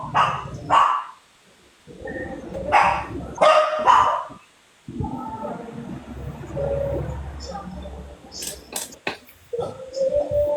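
Dogs barking indoors during an afternoon livestream: several bursts of close, loud barks and yips separated by short quiet gaps, with a person talking between and under them.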